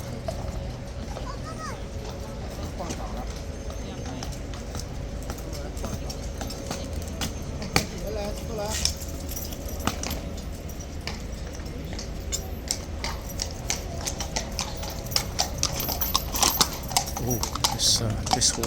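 A horse's hooves clip-clop steadily nearby, with a slight slip, under ongoing talking and background chatter.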